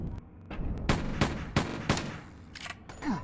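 Repeated gunshots from a bullet-sponge enemy in the horror video game Slaughter, loud sharp bursts at irregular intervals over a brooding background, with a final fainter shot near the end.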